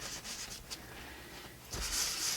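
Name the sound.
rubbing paint with a credit card for texture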